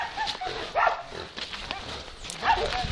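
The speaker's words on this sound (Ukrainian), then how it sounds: "Собаки беруть вепра, вепра, беруть собаки." Several hunting laika dogs bark in short, excited bursts at a wild boar amid rustling and scuffling, moderately close and fairly faint.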